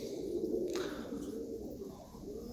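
Dutch tumbler pigeons coo softly in a loft, a low murmuring coo that carries on through the whole stretch with a couple of faint chirps and no talking.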